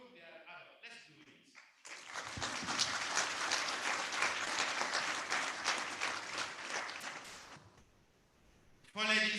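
An audience breaks into sustained applause for several seconds, loud and dense, then fades out. Brief speech-like sounds come just before and just after it.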